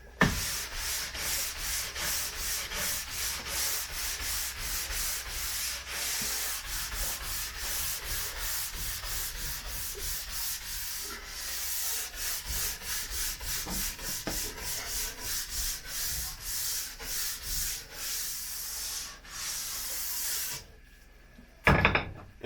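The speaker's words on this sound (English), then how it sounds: "So now that my Blizzard WRC, the blue wax that I put on there is dry, I'm just going to brush it out." Dry blue Blizzard WRC liquid wax being brushed out of alpine ski bases: steady, fast back-and-forth bristle scrubbing that stays close and even for about twenty seconds, then stops with a brief knock at the end.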